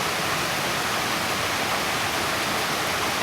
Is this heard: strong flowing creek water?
yes